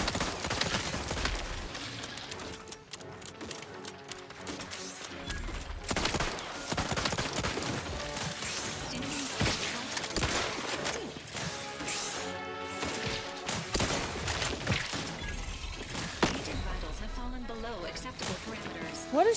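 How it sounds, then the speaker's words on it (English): In the video game Outer Worlds 2, the player comes under gunfire: dense bursts of shots and impacts crackle loudly across the whole stretch, with a voice talking now and then over the barrage. "What is shooting me?"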